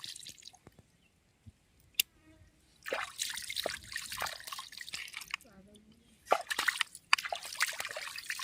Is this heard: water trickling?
yes